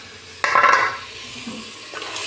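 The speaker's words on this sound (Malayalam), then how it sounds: "ഇനി നമുക്ക് 2 തക്കാളി കട്ട് ചെയ്തത് ഇതിലോട്ട് ആഡ് ചെയ്യാം" Chopped tomatoes dropped into a pan of frying onions, a sudden sizzling burst with a stirring scrape that settles into a quieter steady sizzle, then a brief utensil sound.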